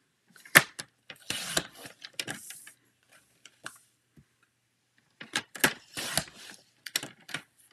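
Designer series paper is trimmed to size on a paper cutter, a run of crisp slicing and clicking bursts followed by a pause, then another cluster of sharp cuts, close and fairly loud with no talking.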